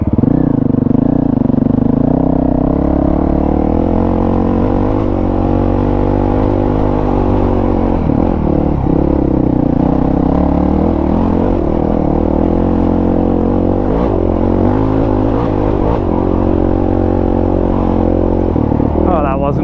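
A Honda CRF dual sport motorcycle labors up a steep trail in second gear, its engine droning loud and close with steady load and small swells in revs throughout.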